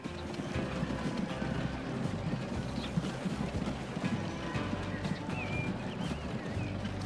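Horse-drawn cart in the Transport Fever 2 video game, hooves clip-clopping in a steady rapid rhythm over a busy ambient background, moderately close and continuous.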